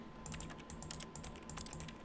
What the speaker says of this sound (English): So me clicking the mouse button is him typing the keyboard.